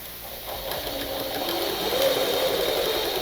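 A sewing machine stitches a dart on a blouse, its motor whirring in one steady, close run that builds slightly louder toward the end.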